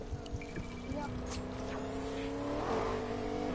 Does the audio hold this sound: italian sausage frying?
no